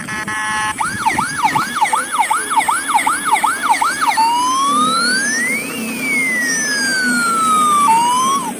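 A toy ambulance siren blares close and loud, first in a rapid warbling yelp, then shifting to slow rising and falling wails that sweep up and down.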